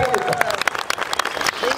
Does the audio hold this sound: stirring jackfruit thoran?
no